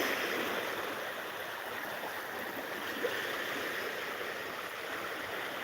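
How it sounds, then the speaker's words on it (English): Waves roll onto a Thailand beach at sunrise, heard as a continuous broad wash of surf, steady and moderately loud with no clear individual crashes and no voices. "the sound of the waves and the feel of the waves across your legs"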